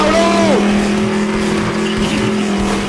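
Car driven in Team Fortress 2, engine hum holding steady and near with a brief tire squeal, while voices chatter over it.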